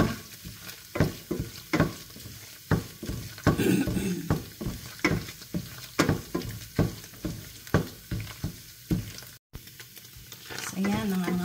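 Coconut milk cooking down into latik is stirred in a pan, with regular scraping strokes about once a second over a soft sizzle. A brief voice is heard near the end.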